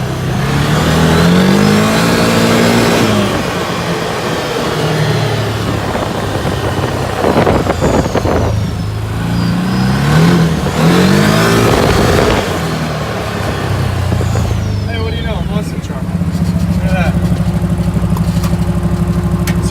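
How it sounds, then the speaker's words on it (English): A 2015 Can-Am Maverick XDS turbo side-by-side accelerates hard in low gear, its engine revving up repeatedly in loud surges with the turbo spooling and whistling between pulls, close and without talk. "You can hear that turbo spooling."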